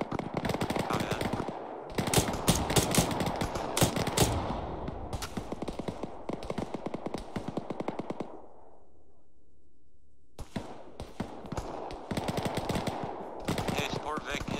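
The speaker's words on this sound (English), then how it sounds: "do you hear that AK fire real close to you?" Close bursts of AK rifle fire from the video game Arma 3 rattle in rapid automatic strings, pause to a low hum, then resume, loud and sharp with some radio chatter in the background.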